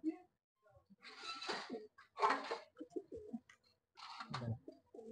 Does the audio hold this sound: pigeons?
yes